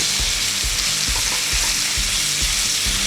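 A thin ribeye steak fries in a hot pan with a loud, dense, continuous sizzle and sputter, close and unbroken throughout, with no talking.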